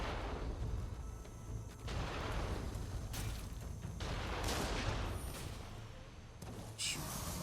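Cannon fire in a dungeon-crawling action game plays as several sharp booming blasts over a continuous dense game soundscape, fairly loud and close.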